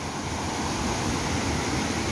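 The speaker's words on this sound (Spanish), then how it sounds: "queríamos mostrarle el río debido a las fuertes lluvias" A swollen river rushes after heavy rains, giving a dense, continuous roar of churning water that stays loud and unbroken throughout, with no voices over it.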